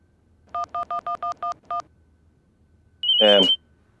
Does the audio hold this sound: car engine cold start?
no